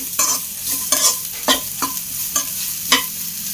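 Carrot and cabbage stir-fried for veg fried rice, with a spatula scraping the pan in several sharp, spaced strokes over a steady close sizzle.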